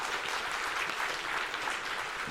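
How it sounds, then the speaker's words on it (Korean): A church congregation at a Sunday service claps steadily in encouragement for a group of middle-school students, a dense, even wash of applause from many hands with no talk over it. "여러분 격려 박수 부탁드립니다"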